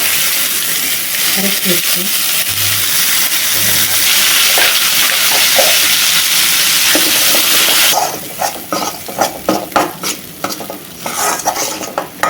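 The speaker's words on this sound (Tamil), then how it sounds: "கொஞ்சமாக கடுகு, கொஞ்சமாக பெருங்காயத்தூள், கடுகு பொரிஞ்சோன்னே அரைச்சி வச்சு" Mustard seeds and asafoetida fry in hot oil, a loud, continuous sizzle and hiss with crackling pops, then gives way to irregular scraping and clattering from stirring in the pan.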